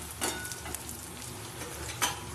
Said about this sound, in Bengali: এখানে গাঁটি কচুটা ভাজা ভাজা হয়ে গেছে তারপর আমি পেঁয়াজ দিয়ে দিয়েছি